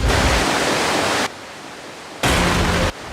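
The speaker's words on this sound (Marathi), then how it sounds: "ही नदी संपूर्ण गुहेतून वाहते" Loud, steady rush of a river flowing through a cave, with no voices, cutting in and out abruptly as the water noise drops to quieter stretches and returns.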